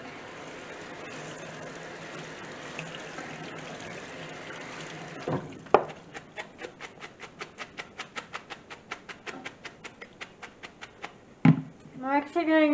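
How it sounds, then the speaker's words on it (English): Tap water runs into a sink over food being drained and rinsed, a steady close splashing hiss, then a quick series of rhythmic clatters and a rising filling gurgle at the end; talk is present. "Run some water over it."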